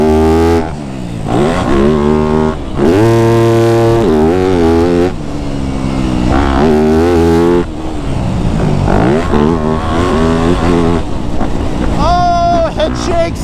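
A Yamaha YZ250F dirt bike ridden fast, its engine roaring loud and close with rising and falling pitch as the rider shifts and revs, while someone talks over it throughout.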